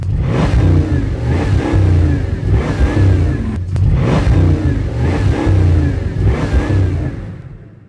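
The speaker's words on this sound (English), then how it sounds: "I'm going to show you guys what this car actually sounds like." A Bugatti 100th-anniversary supercar worth about $3 million revs hard in a series of loud, close throttle blips, each surge rising and dropping back, with a brief break midway.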